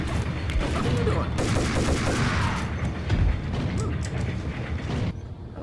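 Dense rapid gunfire from the Max Payne video game, a sustained loud fusillade of repeated shots with mechanical clatter that cuts off near the end.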